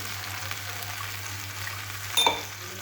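Fish pieces fry in a hot pan with a steady close sizzle and crackle, ending in a brief louder burst of spattering near the end, no voices.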